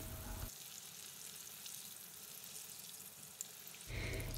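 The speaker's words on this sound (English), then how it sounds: "Slowly and carefully lower the ladle into the oil." Taro puff dumplings (wu gok) deep frying in hot oil, heard as a loud, continuous sizzle that swells sharply when the ladle goes in and carries on steadily throughout.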